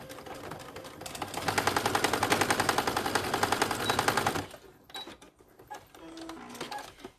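A sewing machine stitching across a zipper pouch, a rapid rattling run of needle strokes for several seconds that stops abruptly, followed by quieter handling clicks and rustles.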